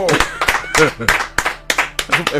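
Hands clap in a steady series of sharp slaps, roughly every third of a second, mixed in with ongoing talk.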